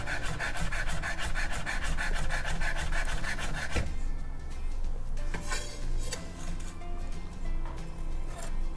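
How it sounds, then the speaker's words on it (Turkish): A sharp kitchen knife slicing very thinly through food on a wooden board, cutting under its own weight with a fast, even rasping rhythm of close strokes, followed by slower, looser scraping and rubbing. "Bıçak kendi ağırlığıyla ve kendi keskinliğiyle kesiyor."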